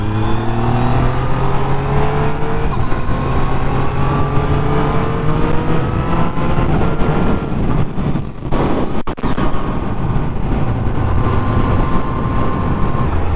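A 2019 Yamaha MT-09 motorcycle with a quick shifter accelerates while riding. Its loud engine note climbs in pitch through several quick gear changes, with a brief dip partway before it pulls hard again under rushing wind.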